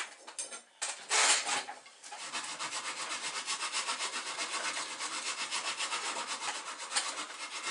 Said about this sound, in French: Maintenant, je vais terminer avec la lime.